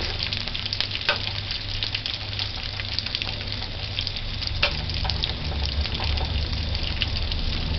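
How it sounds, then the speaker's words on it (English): Fish frying in oil in a pot gives a steady, close, crackling sizzle with occasional louder pops, continuous and without talk. "we're going to let it fry on one side and then flip it"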